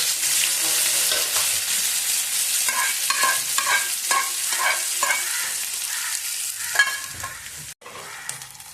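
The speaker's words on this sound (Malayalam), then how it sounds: "അത് നമ്മൾ മൂപ്പിച്ചിട്ട് ഇറച്ചിക്കറിയിലേക്ക് ആക്കാനാണ് ഇട്ടത്." Small chopped coconut pieces frying in a pan for a meat curry, a loud steady sizzle with a run of rhythmic scraping stirs in the middle and a brief sharp knock near the end.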